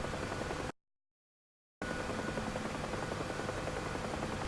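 A UH-1H Huey helicopter in the DCS flight simulator gives off a constant loud rotor and turbine roar from inside the aircraft, cut off for about a second of total silence before resuming.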